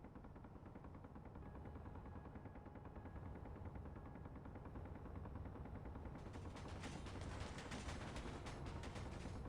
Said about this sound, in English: it's trying to shoot something here that I didn't take over yet